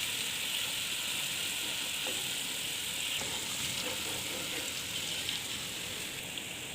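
Onion and ginger paste frying in a pan for dhaba-style chana daal, a steady soft sizzle with faint crackles throughout, heard close and alone.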